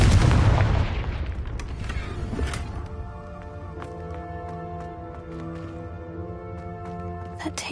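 A Confringo fire spell bursts in a Harry Potter video game, a loud low boom at the start that decays into a ringing, reverberant tail with sparkling magical tones lingering beneath.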